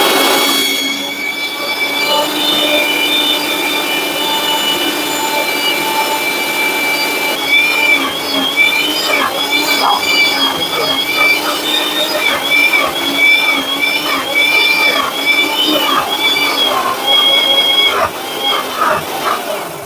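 A kitchen mixer grinder with a juice jar churns cream into butter, a steady loud high-pitched motor whine with shifting tonal overtones and a slight change in pitch near the end, running continuously without talk.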